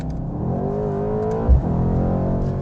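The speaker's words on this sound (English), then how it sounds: "that sounds really good. Like the induction noise of a V8 is just good" A Mercedes-AMG C63 S V8 engine revs up close and loud with a rising, throaty drone, briefly thumping and dipping midway before pulling on steadily, with no talking.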